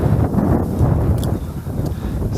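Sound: strong wind

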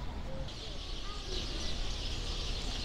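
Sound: many birds chirping on a city square

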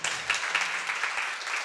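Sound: audience applause

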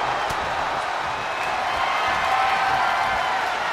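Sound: crowd cheering in WWE 2K23 video game arena

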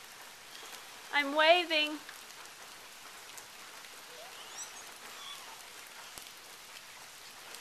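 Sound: rain falling

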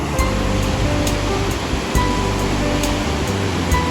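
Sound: rushing waves and torrent of the Tisza river

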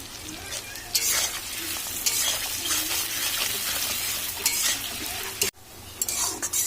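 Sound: onions frying with salt in a pan

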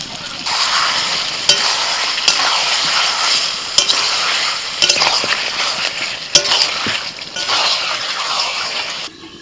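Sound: chicken frying and being stirred with spices in a pan

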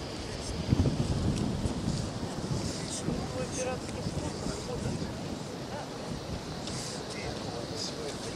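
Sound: wind

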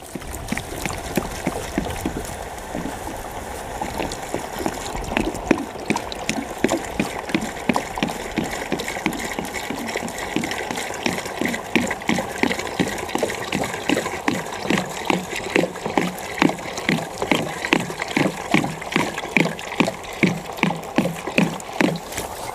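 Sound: water poured into container with calcium carbide, gas forming

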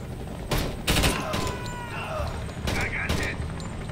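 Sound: gunfire in video game Door Kickers 2

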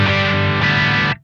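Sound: electric guitar through J. Rockett El Hombre distortion pedal

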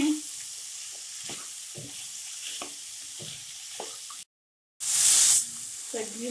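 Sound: vegetables sautéing in a pan for khichdi

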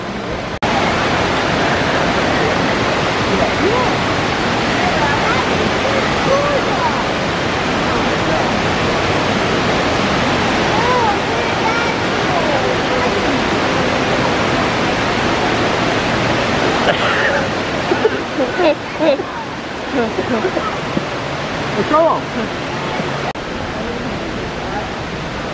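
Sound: waterfall at Gaylord Opryland, Nashville

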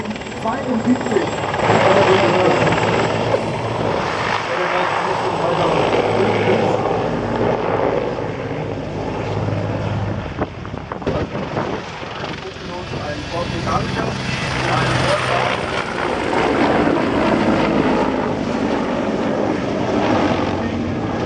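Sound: military helicopter flying at an air show

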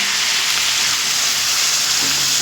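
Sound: warm water poured into sizzling pumpkin shrimp curry

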